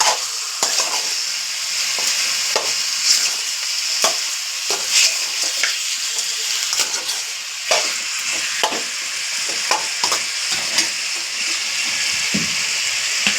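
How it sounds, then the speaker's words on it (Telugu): Chicken curry with broad bean seeds is stirred and fried in a pan over a gas flame, giving a steady close sizzle broken by repeated scraping stirs, with no talking. "ఒకసారి బాగా కలిదిప్పండి ఇలా."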